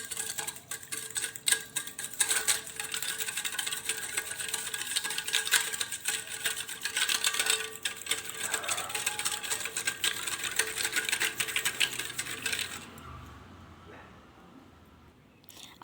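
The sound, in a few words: churning lassi with ice cubes using a wooden churner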